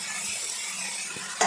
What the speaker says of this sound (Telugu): ఇప్పుడు దీంట్లో ఉల్లగడ్డ ముక్కలు అయితే వేసుకుంటున్నాను.